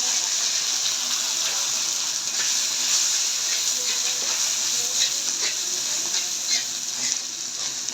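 Ginger paste and cumin powder frying in hot oil for a tempering, a continuous loud crackling sizzle with bright hissing throughout.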